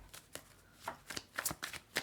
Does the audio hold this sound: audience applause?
no